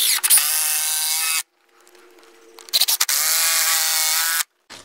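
A power drill bores a hole into a log rafter, whining loudly in two long bursts separated by a quiet pause with brief clicks and taps.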